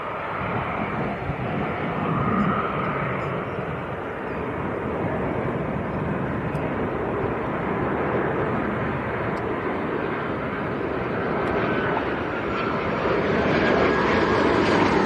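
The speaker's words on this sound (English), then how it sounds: "Jet 2 on finals, according to Patrick." A Jet2 passenger jet on final approach to land at Leeds Bradford Airport, heard as a steady, broad engine roar that holds at fairly constant loudness throughout, with no talk over it.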